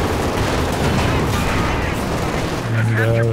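Bazookas fire in the video game Company of Heroes 2 during a 2v2 match, amid dense, continuous loud battle noise of gunfire and booms, with a short tonal game sound near the end.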